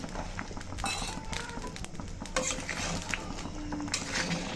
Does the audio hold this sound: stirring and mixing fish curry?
yes